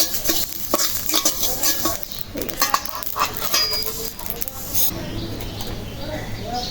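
Black cumin seeds frying and bubbling in hot oil in a pan, a steady sizzling hiss with scraping and stirring clatter on top, fairly close and continuous.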